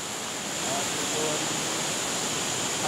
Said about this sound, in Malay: air terjun Haratai